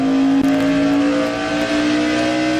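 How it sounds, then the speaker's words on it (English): NASCAR stock cars race on the Phoenix oval in 2000, a loud sustained engine roar with a steady droning pitch from an onboard view, with no talking. "You'll see the debris come out from underneath Rick Mast's car."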